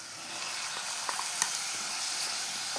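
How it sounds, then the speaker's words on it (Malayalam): Breadfruit pieces go into a pan of sautéed onions for a masala curry, giving a steady, close sizzle of frying with a few soft stirring clicks and no voices. "അപ്പോൾ ഇനി ഞാൻ ഇതിനകത്തേക്ക് ഇതിൻ്റെ കടച്ചക്ക ഇട്ട് കൊടുക്കുന്നുണ്ട്."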